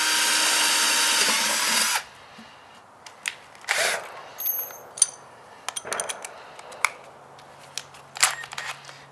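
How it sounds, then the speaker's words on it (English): A power drill boring a guide hole into a metal Presto pot, a loud steady whine for two seconds, then scattered clicks, scrapes and clatter of handling up close. "So make your guide hole."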